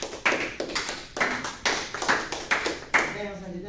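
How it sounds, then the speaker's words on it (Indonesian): Classroom clapping with evenly spaced hand claps in a steady rhythm, about a dozen sharp hits, fairly close and moderately loud, fading out at the end. "kasih tepuk tangan dulu."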